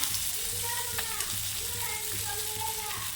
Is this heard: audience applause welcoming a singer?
no